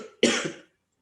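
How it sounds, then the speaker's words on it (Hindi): One short, sharp human cough, close and loud, fading quickly into silence. "ये अचानक से खांसी क्या स्टार्ट हो गई मेरे को"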